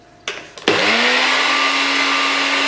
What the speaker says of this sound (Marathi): कोरिएंडर ही आमी बारीक पेस्ट करुया